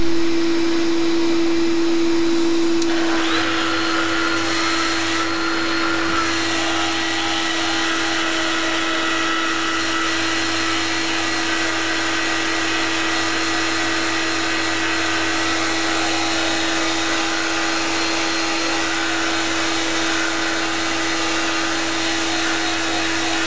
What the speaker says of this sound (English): But right now I will sand away the antifouling here.